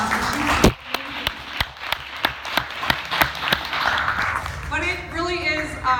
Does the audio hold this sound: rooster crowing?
no